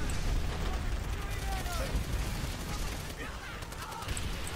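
An explosive barrel detonates in World at War amid continuous battlefield gunfire and rumbling blasts, a loud, dense wash of combat noise lasting throughout.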